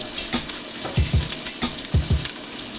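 Onions frying in a pan over medium-high heat for butternut squash risotto, a constant sizzle broken by rhythmic paired scrapes and taps of a spoon stirring, close and clear, with no one speaking.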